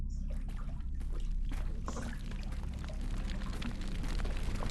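Water poured from a container in the Kamla horror game, a continuous gurgling trickle with splashy liquid texture, fairly close and moderately quiet, running the whole time without speech.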